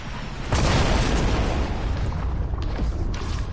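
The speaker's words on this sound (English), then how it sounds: "I just shot like two explosives" Explosives going off in Fortnite Battle Royale: a loud boom bursts in after a quiet start, then a sustained rumbling roar that slowly tails off, with a couple of faint later pops.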